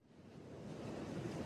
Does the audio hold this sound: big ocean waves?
yes